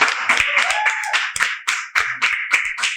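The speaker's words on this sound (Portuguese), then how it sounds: "Uma salva de palmas para ela!" A small group claps in short, uneven bursts at the close of a podcast conversation in a studio, with close, sharp hand claps that start and stop for about three seconds.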